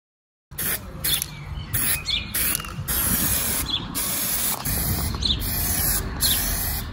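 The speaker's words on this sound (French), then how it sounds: "J'y ai repeint à la bombe." Aerosol spray paint hisses from a can while repainting a part of a BMW 318tds E36 car, a close steady spray broken into short bursts with brief pauses between them.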